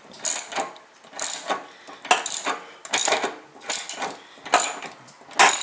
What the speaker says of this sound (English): forgot to account for the actual ratchet's direction